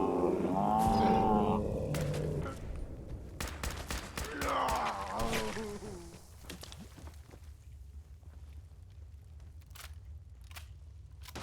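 Rapid bursts of gunfire from Fallout 4 crack out in a loud cluster early on, followed by scattered sharp single shots over a low game ambience, some distant creature noise mixed in.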